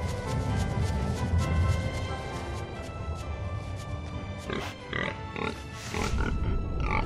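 A pig in Tales of Zestiria lets out loud, rough grunts and snorts close up, a few stronger grunt bursts standing out near the end over a steady game background, with no speech.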